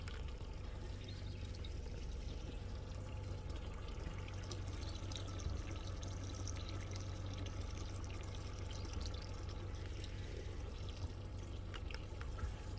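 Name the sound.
cooling water stream shooting from pontoon boat outboard motor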